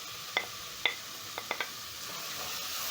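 Tomatoes drop into a hot pan for a pigeon pea (mbaazi) curry, giving a steady faint sizzle with a few brief utensil clicks and scrapes spaced through it.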